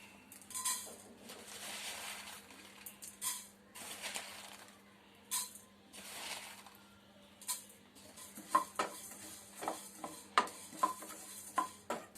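Coriander seeds dry roasting over a low flame in a pan, stirred with a utensil that scrapes and clinks against the metal in short irregular bursts, close and fairly quiet, with no one talking.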